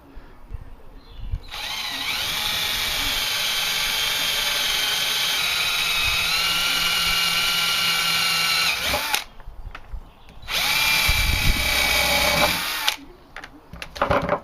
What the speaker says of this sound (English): drilling out these two pot rivets here with a 4mm drill